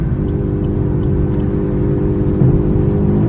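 A car with a burble tune rumbles loud and close while accelerating, its engine and exhaust giving a deep, steady throbbing drone with no break throughout.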